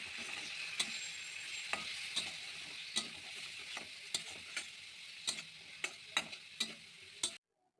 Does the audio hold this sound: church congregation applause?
no